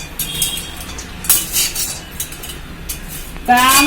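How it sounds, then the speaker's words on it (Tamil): Turmeric dry-roasts in a pan while being stirred, producing close, loud scraping and clinking strokes at irregular intervals, ending with a brief burst of a voice. "இதே பிரட்டி பிரட்டி வறுக்கணும்ப்பா."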